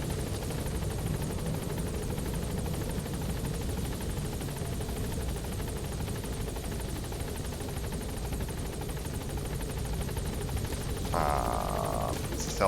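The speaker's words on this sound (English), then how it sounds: "Does this helicopter want to, you know," A helicopter in the Metal Gear Solid: Ground Zeroes and Phantom Pain video game gives a loud, steady rotor and turbine drone that holds throughout, with a brief higher buzz near the end.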